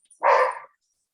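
A puppy lets out one short, loud bark close by indoors, and then it is silent.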